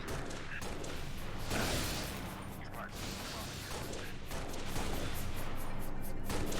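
Rapid gunfire in a video game speedrun at a marathon event, bursts of shots and booms crackling almost continuously, with a voice speaking over them at times.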